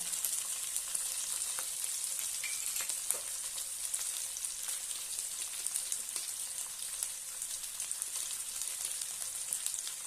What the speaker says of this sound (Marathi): आणि त्याची परतून घेऊया